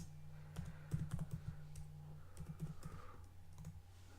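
Quick bursts of keystrokes clatter on a computer keyboard as a command is typed into a terminal, close and crisp over a low steady hum, with short pauses between runs of clicks.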